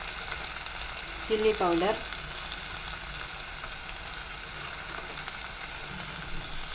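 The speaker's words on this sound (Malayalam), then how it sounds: "ഈ സമയത്ത് നമുക്കതിലേക്ക് ജിഞ്ചർ ഗാർലിക് പേസ്റ്റ് അതിട്ട് കൊടുത്തൊന്ന് ഇളക്കാം" Ginger garlic paste and spices sizzle and crackle steadily in a hot pan for soya chunk biryani, a continuous close frying hiss with brief stirring scrapes while a voice speaks briefly.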